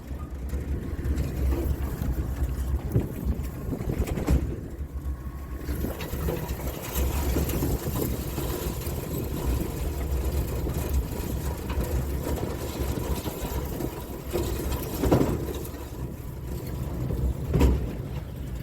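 A Yamaha Kodiak 4x4 quad bike engine drones steadily and fairly close on a farm, a low continuous rumble with slight swells and bumps, no voices over it.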